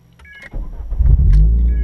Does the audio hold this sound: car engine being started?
yes